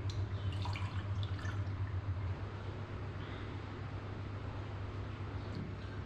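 Water is poured onto a tulsi plant at home, giving a steady, fairly close splashing and trickling wash of sound that runs throughout, with no talk.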